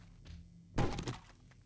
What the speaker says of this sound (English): there's somebody banging about